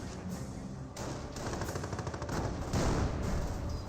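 Rattling battlefield gunfire in Company of Heroes from a Pak 38 anti-tank gun crew and a Panzer IV, continuous dense bursts of shots over a loud combat din, with no talking.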